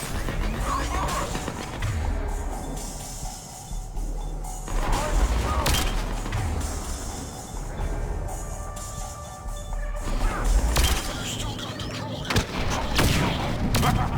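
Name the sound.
gunfire in firefight in video game Mass Effect 3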